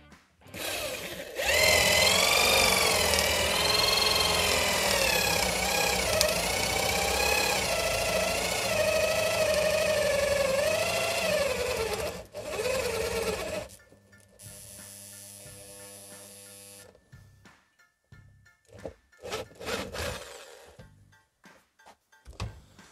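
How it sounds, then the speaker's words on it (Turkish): A loud, steady motorized whine with a wavering pitch from an impact drill boring a hole runs for about twelve seconds, then cuts off, leaving a few scattered clunks and rattles. "bir de punch'la delik açmayı deneyelim bakalım"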